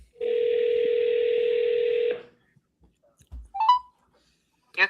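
A telephone line plays a steady, loud call-forwarding tone for about two seconds, followed by a few soft clicks and brief electronic blips on the line.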